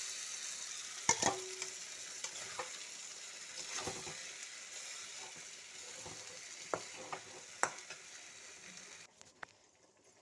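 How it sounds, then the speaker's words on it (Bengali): Small live tilapia being sautéed in a thick spice masala in a pan, a soft low sizzle broken by scattered stirring scrapes and clacks, fairly quiet and with no voices. "মশলার সঙ্গে আমি মাছটা একটু কষিয়ে নিয়েছি।"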